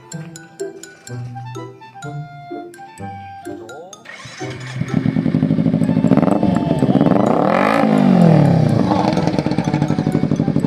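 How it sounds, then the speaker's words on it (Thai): Clinking metal taps at first, then a Yamaha R15 motorcycle with a newly fitted exhaust cranks and starts, settling into a loud, steady, fairly soft-toned idle with a few revs. "ลองสตาร์ทดูนะครับมา เออ ลองสตาร์ทดิ"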